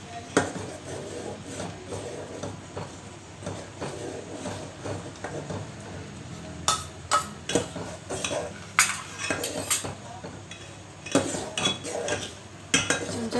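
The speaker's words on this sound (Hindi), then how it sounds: "चमचा चलाते रहेंगे" A spoon stirs beaten egg into chicken soup in a metal pot, giving repeated clinks and scrapes against the pot sides, close up, growing busier and sharper toward the end over a faint background hum.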